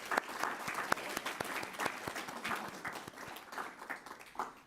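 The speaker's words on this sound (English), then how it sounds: "Let's give them another round of applause." An audience at a talk on education trends gives a round of applause. Many hands clap briskly and unevenly from start to finish, and the sound tapers slightly at the end.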